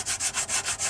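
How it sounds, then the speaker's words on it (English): Hand sanding of filler on a DH Beaver scale model, a dry rhythmic scraping in about six even back-and-forth strokes, close and steady with no talking. "So right now I'm trying to sand those down there to eliminate the use of filler"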